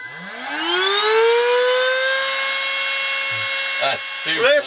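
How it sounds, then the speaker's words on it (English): An onboard cordless Hoover vacuum cleaner on a sailing boat whines up into a rising pitch and holds a loud, steady motor drone, with a brief voice near the end. "that is supposed to be the same noise as this onboard cordless Hoover"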